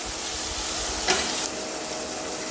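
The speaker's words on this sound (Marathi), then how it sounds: "आणि चवळीचे दाणे टाकल्यानंतर पण हे छान परतून घ्यायचे आपल्याला" Black-eyed peas sauté in garlic, ginger and chili paste with a continuous close sizzle. A short burst of stirring cuts in midway.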